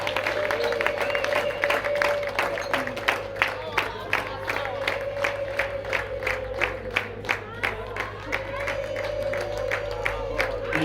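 A crowd at a Rwandan wedding reception claps in a steady rhythm for the bride, and a sustained high ululating cry rings loudly over the applause throughout.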